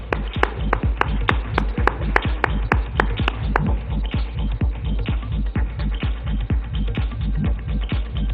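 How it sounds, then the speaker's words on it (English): Steady, rhythmic clapping fills a hall at a corporate awards ceremony, the claps evenly spaced and fairly close, sounding like a modest group applauding in unison without any talk over it. "big round of applause, ladies and gentlemen"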